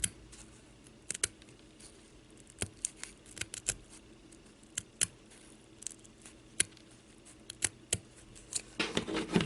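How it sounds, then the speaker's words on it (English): Scissors snipping across a felt-like craft material for a rainbow-edged snowman ornament, a series of sharp, close, irregular cuts with short pauses, then a quicker cluster of snips at the end. "I just cut this off like this and try to make a straight line"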